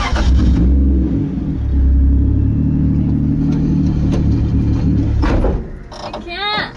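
A 2JZ-engined 240SX drift car idles and revs with a deep, loud rumble, then the engine drops off near the end while people talk over it.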